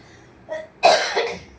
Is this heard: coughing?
yes